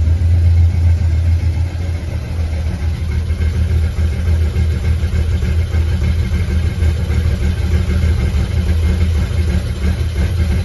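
A Suzuki VL 1500 Intruder V-twin idles steadily in a garage during carburettor tuning, a loud, close, continuous low throb with no talk over it.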